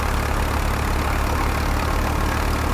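An old-model Fiat 480 tractor, 55 hp, running a thresher: a steady, close diesel idle with an even low throbbing pulse and constant mechanical drone throughout.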